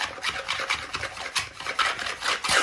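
Fresh concrete is tamped by hand, layer by layer, in a mould, giving a close series of uneven rasping, scraping strokes with no talking.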